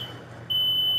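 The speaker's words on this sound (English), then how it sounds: "I just set off all the fire alarms in the house" Smoke alarms in a video game house sound a steady high electronic tone, faint at first and then loud and continuous, with no talking.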